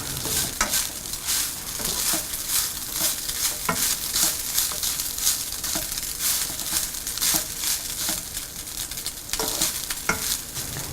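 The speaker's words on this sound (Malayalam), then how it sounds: "നിങ്ങളുടെ ടേസ്റ്റിനനുസരിച്ച് സോൾട്ടും കൂടിയിട്ട് ഏകദേശം 5 മിനിറ്റോളം നന്നായിട്ട് മിക്സ് ചെയ്യുക" Coconut lemon rice with salt is stirred in a hot pan, a steady sizzle broken by repeated scraping and tossing strokes at an irregular rhythm, close and continuous with no voices.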